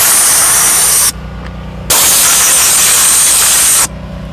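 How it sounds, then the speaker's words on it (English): A steam cleaner blasts grime out of the buttons in a Dodge Charger Daytona interior, with two loud, close bursts of hissing steam separated by a quieter pause and then falling off. "give it a quick steam, blow it out from far"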